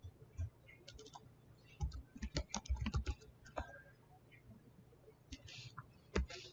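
Keys clatter on a computer keyboard in quick irregular bursts, fairly close and alone, with brief pauses between runs of typing during simple C# console program data entry.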